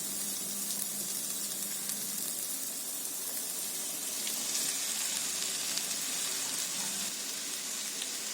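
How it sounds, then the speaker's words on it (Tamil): Okra sizzling steadily in oil with fried masala in a pan, a continuous soft frying hiss and crackle with no talk. "இப்போ நம்ம வதக்கி வச்சிருக்க வெண்டைக்காவை இது கூட சேர்த்துடலாம்."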